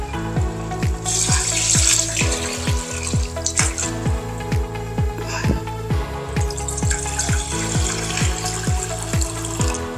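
Water pours into a pot of rice in a steady close splashing stream, running continuously for ten seconds over a faint tonal background.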